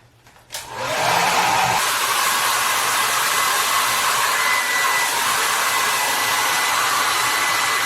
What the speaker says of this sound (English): I'm gonna take the blow dryer.